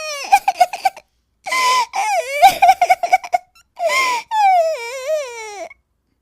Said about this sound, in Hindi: तभी उसे रोने की आवाज आती है।